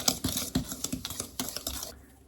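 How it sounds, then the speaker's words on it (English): A whisk scrapes and clicks quickly around a bowl of almond flour and cocoa powder batter, with a steady run of close, sharp strokes that slow and soften toward the end. "Let's whisk this"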